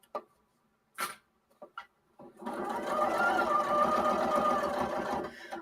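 A sewing machine stitches bags: a few sharp clicks and taps first, then the motor starts and runs in a fast, steady mechanical hum of stitching for about three seconds before stopping.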